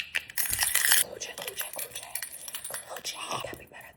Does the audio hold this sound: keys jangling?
yes